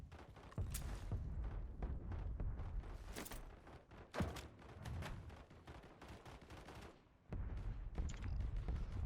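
Bursts of gunfire in Call of Duty: Warzone crackle repeatedly, single shots and rapid volleys layered over a low rumble, with brief lulls between exchanges.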